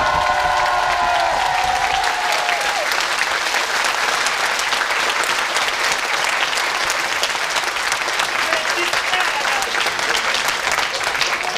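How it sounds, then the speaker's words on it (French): Sustained thunderous applause from a live audience at a fan meet-and-greet event, dense and steady for the whole stretch, with a faint voice at the very start. "je vous demande vraiment un tonnerre d'applaudissements"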